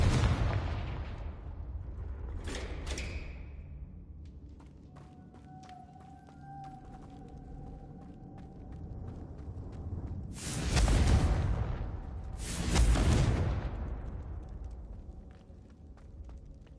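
Confringo spell explosions in the Hogwarts Legacy video game: two loud, broad blasts land about two seconds apart, each with a rumbling tail, after earlier quieter spell effects and light ambient game sound.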